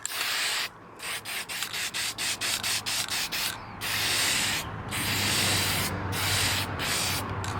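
A spray can lays a light coat of paint onto a plastic truck grille: repeated short hissing bursts, then longer sustained sprays, close and fairly loud with no talking.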